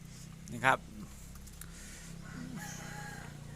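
A chicken clucks once, sharp and close, with faint farmyard clucking and a soft voice in the background.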